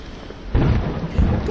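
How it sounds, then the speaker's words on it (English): A thunderstorm sound effect for a Bible story about Jonah, a deep rolling rumble of thunder over steady rain noise that swells abruptly and stays loud and near for the rest of the moment. "There was a huge storm."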